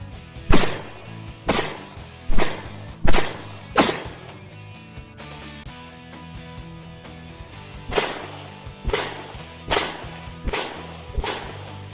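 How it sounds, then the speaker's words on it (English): An AR-12 shotgun fires at a watermelon in a string of loud, sharp, close shots, about a dozen in total. The rhythm is irregular and each shot rings out with a brief tail. "Now we have our AR-12 versus a watermelon."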